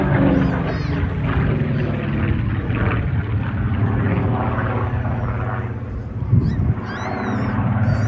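A Griffon-engined Spitfire flying overhead at an air festival, a loud, sustained propeller drone that swells and shifts in pitch as it passes, with faint crowd noise underneath.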